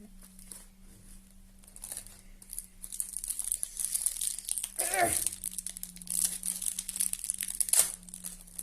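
Plastic wrapping and tape being torn and crinkled off a pack of Brawl Stars trading cards, close-up rustling that builds with a sharp rip near the middle and another near the end.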